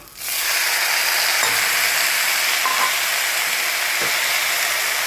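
Drumstick leaves with chilli powder, turmeric, salt and curry leaves are stirred in a hot pan for thoran, a loud, steady sizzling hiss with a few faint scraping clicks.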